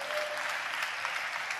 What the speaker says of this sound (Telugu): ఆ దేవునికి చప్పట్లు కొడుతూ స్తోత్రాలు చెప్దాం